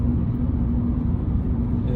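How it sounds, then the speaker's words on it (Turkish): Seat Ibiza 1.2 TSI, a 90 hp turbocharged petrol car joining a motorway, its engine a steady low drone with road rumble as it shifts down to third and pulls harder. "Şimdi ben burada bir üçüncü vites ara yapmak istiyorum."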